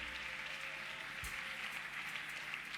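A church congregation claps at a service, a faint, steady patter of applause lasting throughout.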